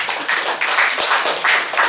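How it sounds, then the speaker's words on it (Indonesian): An audience applauds a newly elected parish region leader, producing a steady, dense wash of many hands clapping at close range that continues without a break. "Kita tepuk tangan untuk beliau."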